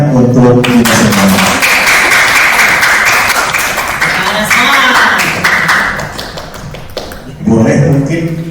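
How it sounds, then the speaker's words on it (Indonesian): Workshop audience of teachers clapping together, a dense sustained burst of applause lasting several seconds, with speech-like tones at the start and again at the end. "Tepuk tangan untuk kita semua."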